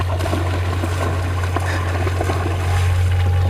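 A young sub-adult hyena splashes and frolics in water, producing soft trickling and sloshing sounds over a strong steady low hum, with no voices.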